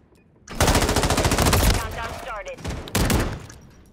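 Rapid automatic gunfire in a video game built around a Kar98K setup, one long loud burst of rattling shots followed by a shorter burst after a brief pause, with a faint voice briefly underneath.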